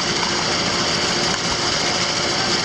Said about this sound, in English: Vacuum's running.